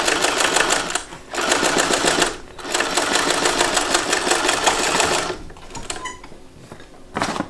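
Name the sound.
sewing machine stitching lining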